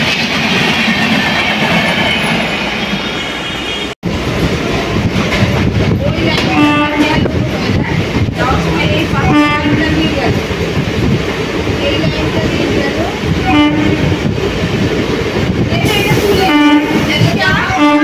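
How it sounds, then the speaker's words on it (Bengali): A Belur Math local train pulls into platform 1 at Liluah station with continuous loud rumbling, wheel clatter and rhythmic clicks, a brief dropout near the start, then steady rolling noise throughout. "বেলুড় মঠ লোকাল একদম 1 নম্বর প্ল্যাটফর্মে ঢুকে এই ট্রেনটা লিলুয়া স্টেশনের"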